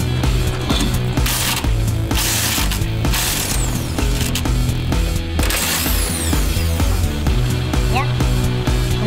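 An impact wrench hammers at a rusty cross-member bolt on a 1965 Ford Mustang restomod. It makes loud, continuous, rattling mechanical bursts that run through the whole stretch.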